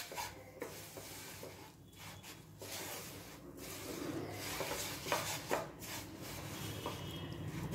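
A spoon stirs sesame seeds through hot sugar syrup in a pan on a lit gas stove for tilgul ladoo, giving steady scraping and rubbing strokes with a soft sizzle, close and continuous.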